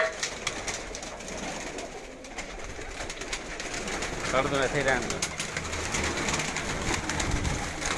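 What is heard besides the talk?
teddy pigeons cooing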